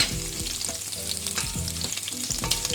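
Sliced green chillies drop into hot oil for a dhaba-style spicy aloo gobhi, setting off a steady, bright sizzle with brief stirring scrapes, close and continuous with no voices.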